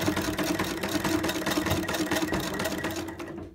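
A sewing machine stitches a flat belt made from seatbelt webbing. Its motor runs loud, close and continuous with a rapid mechanical chatter, then eases off at the very end.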